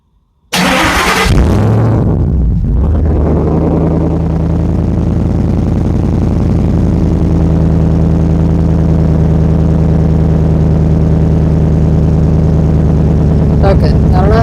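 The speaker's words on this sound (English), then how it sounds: "let alone a supercharged V8 cold start" A Ford SVT Lightning's supercharged V8 cold-starts with a sharp crank and a loud catch, then settles into a steady, rumbling high idle close by for the rest of the clip.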